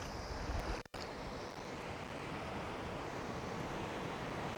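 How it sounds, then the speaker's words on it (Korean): Ocean surf rolling onto a beach on a sunny morning, a steady broadband wash of moderate waves with wind across the microphone and a brief dropout, no voices. "파도가 조금 있네요."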